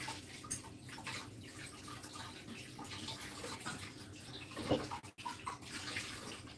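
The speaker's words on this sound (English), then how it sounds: "just rinse it" Tap water runs and splashes while a transparent cup is rinsed out, a quiet continuous trickle with a few brief clunks near the end.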